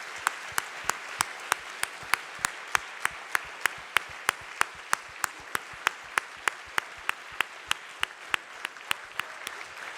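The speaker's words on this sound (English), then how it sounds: "I would like to have a big applause for them" An audience applauds secondary school teachers at a national academy introduction, a steady crowd clapping with sharp, evenly spaced claps beating a regular rhythm over the wash of hands for the full stretch.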